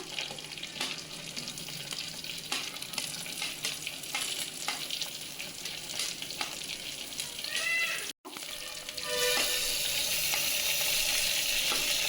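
Onions, curry leaves and mint leaves with ginger-garlic paste sizzle and crackle in hot oil in a pan for vegetable pulao, a steady frying hiss broken by stirring clinks, then a brief dropout before a louder burst of sizzling.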